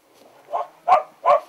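A small dog barks three times in quick succession, the first softer and the next two louder and sharper, close by in an outdoor rural setting with sheep grazing, no talk over it.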